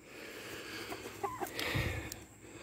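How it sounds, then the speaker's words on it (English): A backyard rooster gives a few soft, scattered clucks, faint against a quiet room background with brief low knocks. "There's a rooster."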